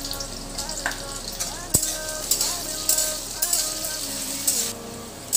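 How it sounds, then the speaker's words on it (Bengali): Diced potatoes fry in a pan until reddish, a loud constant sizzle broken by repeated scraping stirs and a sharp utensil knock. "আলুটাকে আমি একটু লালচে করে ভেজে নেব।"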